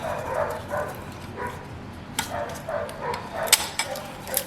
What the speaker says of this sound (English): Pardon for the dog barking in the back.